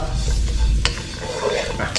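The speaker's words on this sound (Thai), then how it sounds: "เดี๋ยวขอคั่วก่อนนะครับ พอเครื่องเทศเราเริ่มหอม สีเริ่มเหลืองนี้นะครับ" Whole spices for jaew hon dipping sauce are dry-roasted and stirred in a hot pan, giving a close, continuous scraping and light sizzling rustle with a few sharper clinks, and no speech.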